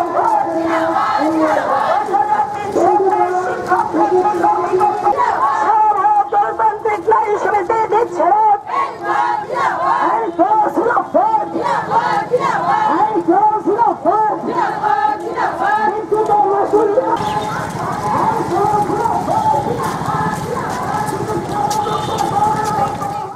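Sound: slogan-chanting women's rally procession in city street

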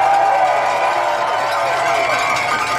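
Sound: rally crowd cheering and applauding

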